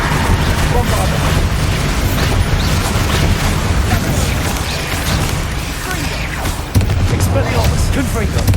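Bombarda explosion spell in Hogwarts Legacy on PS5, heavy booming blasts and crashing impacts rolling continuously amid dense combat noise, with a sharp burst near the end.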